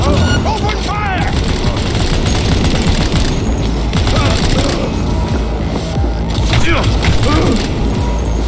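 Heavy automatic gunfire and blasts fill a Cyberpunk 2077 firefight, loud and continuous, with voices shouting over the shooting.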